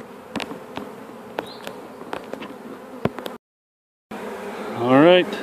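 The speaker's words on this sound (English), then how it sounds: "you can hear the roar of those bees fanning that pheromone out" A honeybee swarm drones steadily at a hive entrance as bees fan pheromone, a dense close buzz with scattered louder individual bees passing, a brief gap of silence, then a louder swell of buzzing near the end.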